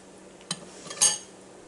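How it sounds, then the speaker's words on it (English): A metal lid set onto a pot of simmering sloppy joe mixture, giving a short clink and then a brighter metallic clatter about half a second later, close and fairly quiet. "I'm going to put a lid on this"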